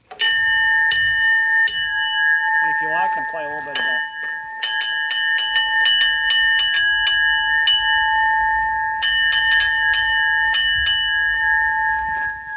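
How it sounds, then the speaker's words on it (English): A trolley car bell at a railway museum rings repeatedly in quick clangs with a steady sustained tone, loud and close, while a person talks over it. "So that's her bell right there."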